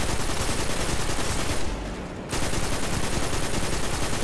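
Dense, continuous gunfire in the sci-fi shooter Destiny 2: Beyond Light, a loud sustained barrage that dips briefly to a quieter lull before resuming at full intensity.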